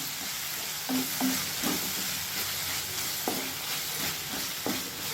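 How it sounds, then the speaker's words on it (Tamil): Potato and okra sabzi sizzles steadily in a pan while a spoon stirs it, with a constant frying crackle punctuated by several light scraping clinks against the pan. "காயெல்லாம் ஓரளவு நல்லா வதங்கிடுச்சு. இன்னும் கொஞ்சம் நேரம் வேகணும்."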